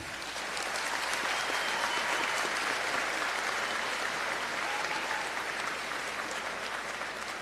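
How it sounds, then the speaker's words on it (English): Audience at a McAllen ISD high school graduation ceremony applauds the graduates' parents, dense, sustained clapping from a large crowd holding steady throughout. "Can you give a round of applause for your parents?"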